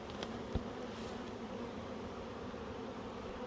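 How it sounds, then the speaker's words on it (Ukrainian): Honeybees buzzing around their hives in an apiary, a dense, steady drone that continues without a break, with a faint tap heard once. "Ось так у неї бджоли."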